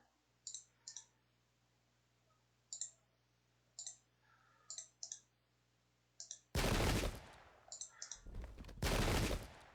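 In the PC strategy game Pike and Shot, Dutch and French troops fire their guns amid sparse interface clicks, with two loud, crackling volleys of massed musket fire bursting out near the end.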